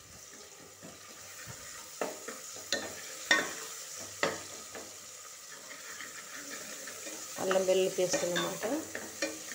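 Mutton curry frying in a pot with ginger garlic paste, a steady soft sizzle broken by sharp scrapes and clanks of stirring, with louder bubbling hiss toward the end and one brief spoken word.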